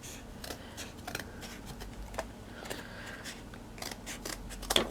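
Scissors snip through a strip of material for a handmade miniature laundry room, a series of quick close cuts with soft rustling between them, no talking.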